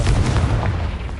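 A Confringo blasting curse explodes in Hogwarts Legacy, a dense, booming blast with a rumbling low-end tail that fills the whole short moment.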